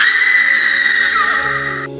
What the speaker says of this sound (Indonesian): Tiba-tiba terdengar teriakan wanita, nyaring, menusuk telinga